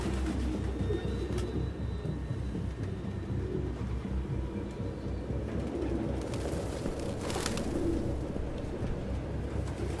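Pigeons cooing in a nest-filled room in the game Detroit: Become Human, soft repeated coos over a constant low rumble with a few faint rustles and chirps, no talk.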